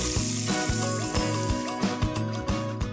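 Pieces of chicken meat fry in oil in a pan for a chicken salad, giving a steady, close crackling sizzle with a tonal background hum running beneath it.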